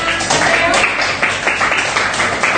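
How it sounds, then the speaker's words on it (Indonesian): A classroom of seventh-grade students claps for a student group after its presentation, a short burst of uneven close clapping that stays loud throughout. "Tepuk tangan untuk kelompoknya"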